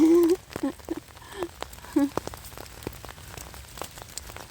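Steady rain pattering on leaves in a German forest in winter during mushroom picking, with scattered drips and someone talking quietly over it.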